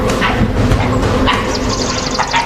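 A pack of wild dogs confronting a tigress in the forest, loud overlapping yips, barks and high whimpering calls from several animals at once, continuous and frantic throughout.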